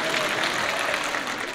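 Concert audience applause at a Turkish-Azerbaijani concert in Istanbul, a steady, dense wash of clapping from a large crowd that holds fairly even and fades slightly toward the end.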